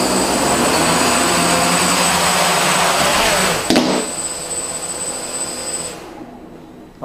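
Motors on a multirotor drone with a Multiwii SE V2.0 flight controller spin up under throttle, giving a loud, steady high-pitched whine. The whine shifts partway through and then fades out.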